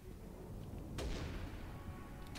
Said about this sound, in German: Auf die rote Tonne geschossen.